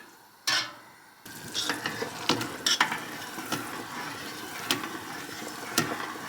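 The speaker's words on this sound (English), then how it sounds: "This is the finishing process on the stove. Bring it to a boil, check for consistency" Maple syrup boiling in a pot on a stove during finishing, giving a steady bubbling sizzle with scattered sharper pops and clicks, close by and moderately loud, with no talking.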